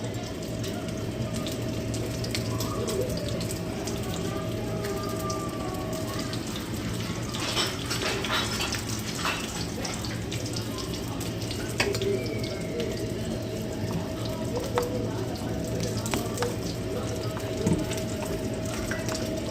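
Watery mustard paste mixed with turmeric, green chili and tomato is poured into a cooking pan, giving a faint, steady wash of pouring and simmering liquid with a few soft clinks scattered through.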